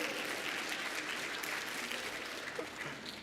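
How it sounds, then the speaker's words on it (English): Steady, dense applause from the audience at the AeriesCon Fall 2021 keynote, clapping evenly and fairly close throughout with no voices over it. "Give her a round of applause too."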